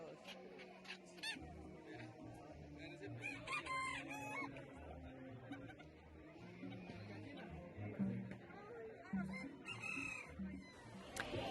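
Several ornamental roosters crow repeatedly amid clucking hens at an international ornamental rooster show and competition, a busy, loud barnyard chorus with some human voices in the background.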